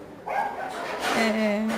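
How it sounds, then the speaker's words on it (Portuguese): A small pet dog barks and yips at close range in a home where someone is crocheting a rug, a few short high calls running through the clip with a soft whine underneath. "Olha meu cachorrinho aparecendo no meu vídeo, né? Fazendo barulho."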